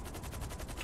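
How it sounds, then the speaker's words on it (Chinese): Rapid automatic gunfire in the video game GTA, a quick even rattle of shots at a fairly low level, with no voices. "什么事都没做，居然就跑来开枪射我了"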